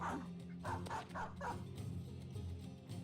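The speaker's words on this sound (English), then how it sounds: "And we're going to let the dogs out." Dogs barking and yipping in Battle Brothers, a quick run of several loud barks early on, then lower growly whimpering continuing underneath.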